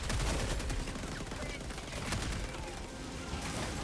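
Sustained automatic gunfire in the video game Helldivers 2, loud and dense without pause, with a voice speaking in the background.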